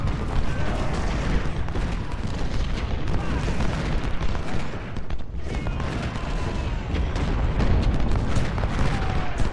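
Cannon and artillery fire in the Civil War strategy game Ultimate General: Civil War at Gettysburg, a continuous rumbling barrage of booms and musket crackle layered into a dense, steady battle din.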